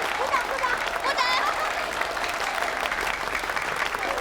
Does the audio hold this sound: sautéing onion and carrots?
no